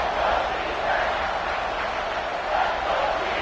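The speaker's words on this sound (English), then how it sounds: "The Tide crowd rolling noise down onto Saban Field on third down." A packed college football stadium crowd at a Tennessee versus Alabama game roars on third down, a dense continuous wash of distant voices rising and falling, with no distinct talk standing out.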